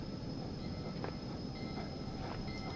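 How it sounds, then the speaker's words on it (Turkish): A faint, steady rumbling hum from a train in the video game Human Fall Flat, with a few soft clanks rising above it. "Aa, tren sesi."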